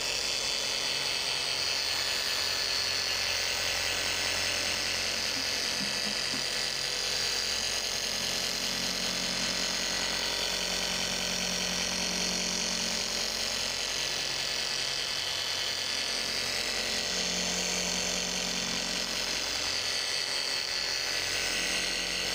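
A 25 millimeter orbit polisher runs steadily at the SEMA show, giving a continuous close whirring drone for the whole stretch with no talking over it.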